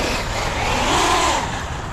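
A Traxxas RC car motor whines on light, feathered throttle during a timed lap, a brief smooth rise and fall heard from a short distance.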